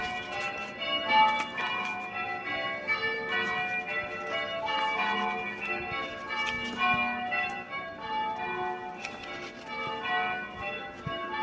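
Church bells ring in Rye, a steady overlapping peal of bright metallic strikes that carries on without a break, heard from some distance.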